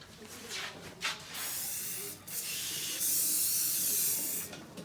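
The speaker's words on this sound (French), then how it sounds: "Tu viens nous montrer comment il marche ton spray?" Butter cooking spray hisses from a can in several bursts, the longest near the end, close and fairly loud, with no talk over it.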